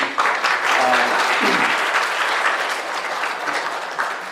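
An audience applauds Dr. TPS at a camp gathering, a steady, dense round of clapping that holds for several seconds, with a few voices murmuring faintly underneath.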